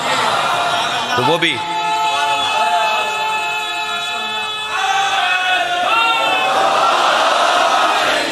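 A large crowd at a Muharram religious gathering in Karachi chants loudly in unison in answer to a slogan, a sustained roaring response that swells, dips briefly and rises again.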